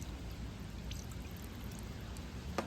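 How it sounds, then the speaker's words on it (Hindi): Pure water is poured in a steady, soft, continuous trickle during a Hindu puja ritual for Chaitra Navratri kalash sthapana, with no voice over it. "शुद्ध जल डालेंगे"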